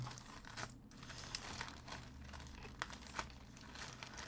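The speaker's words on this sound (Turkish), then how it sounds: "Bu bantlamayı şöyle kurtarayım." Packaging tape peeled off a large boxed air deflector for an air conditioner, heard as close crinkling and tearing with a few sharp crackles over a low background hum.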